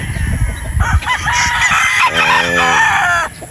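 A Bolic Gold gamecock rooster, a broodstag, lets out one loud, close crow after a second of clucking and shuffling.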